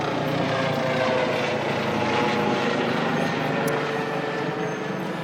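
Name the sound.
helicopter flying over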